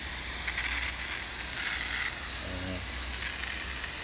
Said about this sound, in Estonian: selleks, et see viilkoorija kuumaks läheks, on meil kasutusel väike aurumasin.